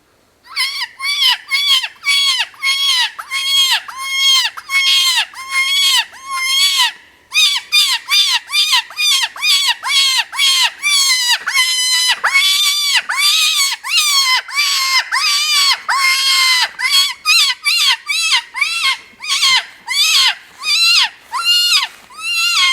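MFK Bunny Bird predator call blown to imitate rabbit distress cries: a long run of loud, high-pitched raspy wails repeated in quick rhythmic bursts with brief breaks, close and alone with no talking.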